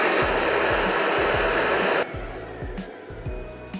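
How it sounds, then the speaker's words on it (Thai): A household vacuum cleaner runs loud and steady for about two seconds, then cuts to a quieter, lower motor hum with faint rustling as it is used to suck marks off a cloth. "เดี๋ยวเอาเครื่องดูดฝุ่นดูดดีกว่า"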